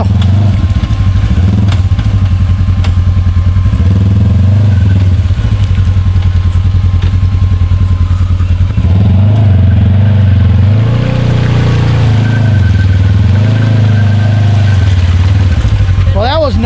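An off-road vehicle's engine churns loudly as it backs up through deep mud on a rainy trail day, rising and falling in revs while people talk over it.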